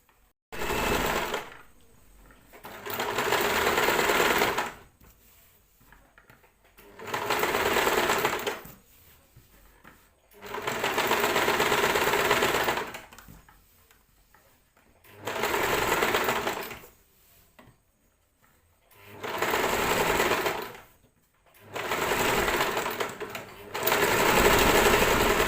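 An electric sewing machine stitches a churidar in repeated bursts of fast, whirring needle runs lasting a few seconds each, separated by short quiet pauses as the fabric is repositioned, all close and without talk.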